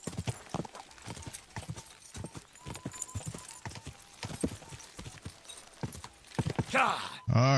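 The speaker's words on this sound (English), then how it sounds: "My horse is getting mad at me." Horse hooves clip-clop in a steady running rhythm through a Kingdom Come: Deliverance II ride, with a loud neigh and snort near the end; someone talks over the hoofbeats.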